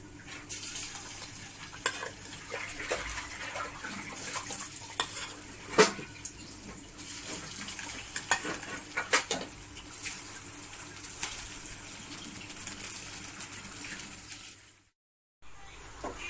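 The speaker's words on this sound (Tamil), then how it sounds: "இப்போ இதை நம்ம எண்ணெயில் போட்டு பொரிக்க போகிறோம்" Batter-coated cauliflower pieces for Cauliflower 65 sizzle and crackle in hot oil, a steady deep-frying hiss with occasional sharp pops, cutting out briefly near the end.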